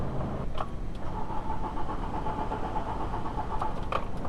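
A cold VW T4 van with a 2.5L engine suffering intermittent rough running turns over and runs, a low, continuous rumbling engine note with a few faint clicks, close up and without talk.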